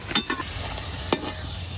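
Spinach kachuri, made with garlic, frying in hot oil with a steady low sizzle, broken by a few brief scraping or stirring clicks.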